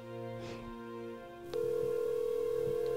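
Telephone tones: a short burst of ringing followed by a steady, loud continuous tone that holds to the end, with no talk.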